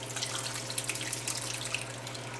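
Liquid tart cherry pie filling is poured over a spoon into a pie crust, giving a steady close trickling splash over a low constant hum, with no talking.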